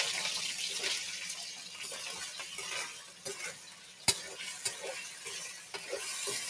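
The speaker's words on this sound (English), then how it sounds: "So we have a good sizzle here." Food sizzles on a Hestan Pro gas range, with a steady crackling hiss and a few sharp clicks and pops from the pan, and no talking.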